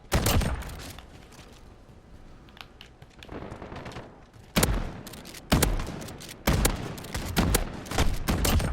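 Model 680 pump shotgun firing in Modern Warfare, a series of sharp loud blasts spaced roughly a second apart amid busy game gunfire and clatter, with a quieter stretch midway.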